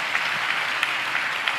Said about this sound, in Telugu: చప్పట్లు కొడుతూ స్తోత్రాలు చెప్తాం.